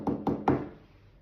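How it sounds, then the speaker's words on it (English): Three sharp knocks on a wooden cottage door, evenly spaced and close, each with a short resonant thud, fading into quiet room tone. "Paddy knocked on the door."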